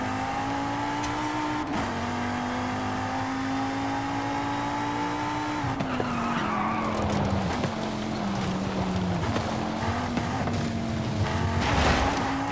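An Audi TT RS tuned to 1000 Nm drones in Forza Horizon 5, a steady engine note that holds, then drops and climbs through gear changes while cornering, without speech.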